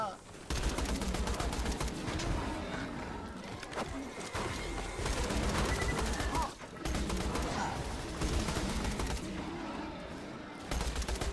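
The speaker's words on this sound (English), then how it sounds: "Time to use my SMG." Rapid SMG fire in Borderlands 2 rattles in long dense bursts, with brief gaps between volleys, loud and close, while players talk over the shooting.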